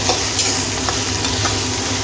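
Chopped onion and finely cut garlic stirred and fried in a pan until browning, a loud, close, continuous sizzle with quick scraping stirs.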